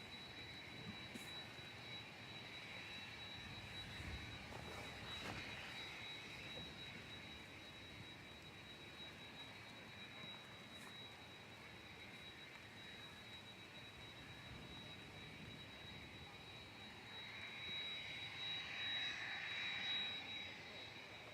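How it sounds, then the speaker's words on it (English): Cessna Citation V business jet departing Manchester Airport for Madrid, heard from a distance as a faint, steady jet whine and hiss that swells slightly toward the end, with no talking. "Cessna Citation 5 heading out to Madrid."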